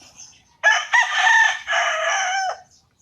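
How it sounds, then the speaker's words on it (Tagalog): A rooster crows once, loud and close, a long harmonic call with a brief break near the start before it trails off. "Ayun, may manok."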